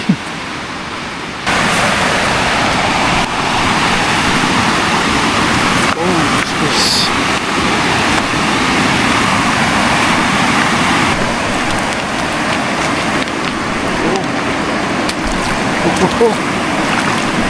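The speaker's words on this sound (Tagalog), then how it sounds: "Lakas ng current, agos ng tubig." A strong river current rushes loudly and steadily through a creek basin at a campsite, a constant broad roar of water close by with no break.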